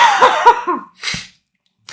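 A single harsh cough bursts out close up, followed by a second shorter cough, then a brief breath.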